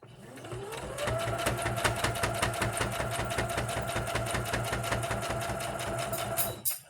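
A sewing machine stitches a fabric bowl cozy, winding up from a slow start into a fast, steady mechanical whir with rapid rhythmic needle clatter for several seconds, then stopping abruptly. The machine is close and alone, with no talking.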